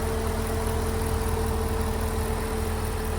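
A Chevrolet Corvette engine with 58,000 miles idles steadily and evenly, close by and fairly loud, with a constant low hum and no talking.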